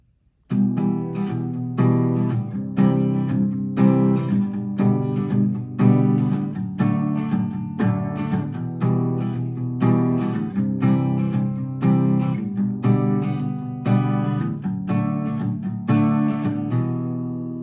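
Guitar plays the interlude of a song alone: a steady, rhythmic picked-and-strummed pattern of ringing chords, even in loudness throughout, with no voices.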